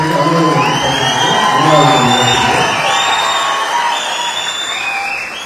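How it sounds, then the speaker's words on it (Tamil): Party supporters at a general council meeting cheering and shouting in two rival factions, a loud, dense crowd roar with whoops that eases slightly toward the end. "ஆதரவாளர்கள் 2 பிரிவாக ஆரவாரம் எழுப்பியதால் பொதுக்குழுவில் குழப்பமான சூழல் ஏற்பட்டது"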